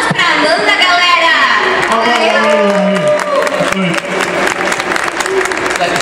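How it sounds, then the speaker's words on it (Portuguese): Audience at an anime convention dubbing panel applauds for Amanda, clapping and cheering over several seconds while people talk loudly over it. "Palmas pra Amanda, galera!"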